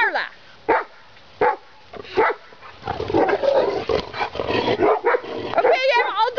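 Dogs bark in short sharp bursts at first, then more continuous yapping and whimpering mix with a person talking in a home setting, all fairly close.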